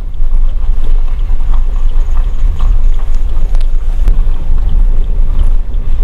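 Cold wind rushing in at the end of a mountain ghat road on a highway, a loud, steady low rumble of wind buffeting the microphone while riding, with faint occasional knocks and no talk.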